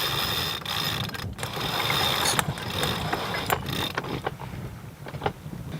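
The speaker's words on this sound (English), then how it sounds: "we pull this sail out and that should unfurl" On a sailboat, the staysail's furling line is hauled out by hand after its jammer is released. The result is a run of near, busy rope-and-block rattling and ratcheting clicks that eases off toward the end.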